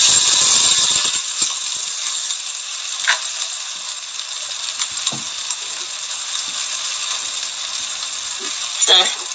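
Fish frying in a pan with butter and thyme, a steady bright sizzle running throughout with occasional clinks and scrapes of a utensil, close and loud, with no talking.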